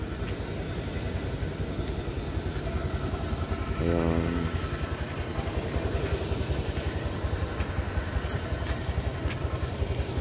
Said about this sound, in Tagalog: Yan, guys, ang ating motor.